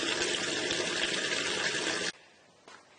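Water pours steadily into a rainwater harvesting water butt, a loud, continuous rushing splash that stops abruptly after about two seconds, leaving only quiet dripping and faint background.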